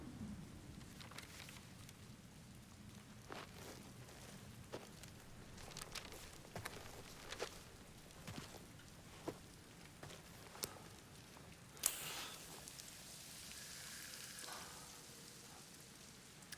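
Steady rain falls in the video game Death Stranding, a soft continuous hiss with scattered drip ticks and a brighter burst of spatter late on, and no voices.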